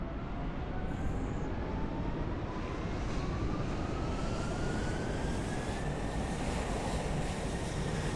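Emirates airliner touching down at Dublin Airport in Microsoft Flight Simulator 2020, heard as a steady, loud broadband roar of jet engine and rushing air, with a faint rising whine, continuous throughout.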